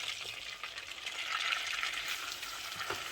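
Flour toasting in butter and oil in a pot for a baked gratin, a steady soft sizzle with faint stirring scrapes, alone and fairly quiet throughout.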